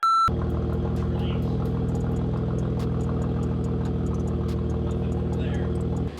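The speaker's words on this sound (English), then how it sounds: "we got pretty much exhaust leaks at every clamp" A BMW M3 with a single midpipe fitted idles steadily with a deep, even rumble, exhaust leaking at the clamps adding faint ticking, loud and close for several seconds before a short beep at the start and a slight drop at the end.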